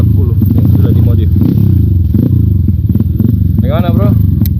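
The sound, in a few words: modified Galaxy 140 motorcycle engine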